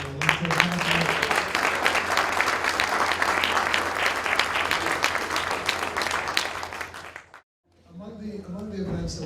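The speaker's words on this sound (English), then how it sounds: "another round of applause for Ali." Lecture audience gives a loud, sustained round of applause lasting about seven seconds, dense clapping that cuts off abruptly before a brief silence and then a voice resumes speaking.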